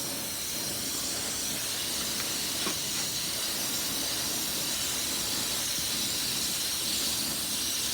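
A spray gun laying down a quick coat of white paint, a steady, close, continuous airy hiss that runs unbroken from start to finish.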